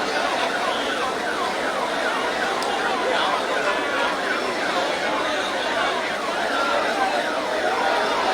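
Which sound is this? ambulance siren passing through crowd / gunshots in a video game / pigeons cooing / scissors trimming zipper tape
ambulance siren passing through crowd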